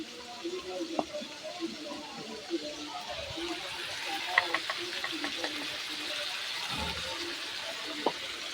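Ground spice paste hits hot oil in a pan while lowla fish is being cooked, giving a steady close sizzle with occasional clinks of stirring throughout.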